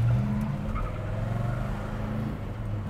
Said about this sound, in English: Just what a four speed GTO should sound like right there.